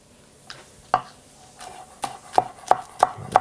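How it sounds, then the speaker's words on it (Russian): A knife chops green onion stalks into rings on a cutting board for gazpacho, a series of crisp, close taps that start sparse and settle into a quicker, fairly even rhythm. "Колечками нарезаю."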